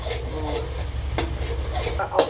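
Egg fried rice stir-fried in a pan by a young cook named Oscar: a steady close sizzle under low hum, with a few sharp scrapes of the utensil against the pan.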